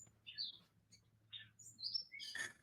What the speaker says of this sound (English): I hear the birds chirping in the background.